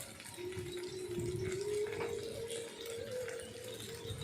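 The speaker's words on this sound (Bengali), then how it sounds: "অল্প অল্প একটু জল দিতে হবে, দিয়ে ভালো করে নাড়াচাড়া করতে হবে" Water pours in a thin, steady stream into a cooking pot of Bengali kalmi shak stalk shukto with ginger paste, a soft continuous trickle rising gently in pitch as the pot fills, close and quiet with no talk.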